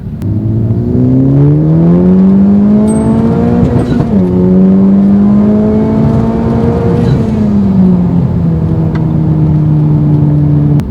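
A Honda Civic Type R pulls hard in second gear from about 3,000 rpm, then shifts into third and keeps accelerating at full throttle; the loud engine note climbs steadily, dips briefly at the shift and rises again, heard up close from inside the car.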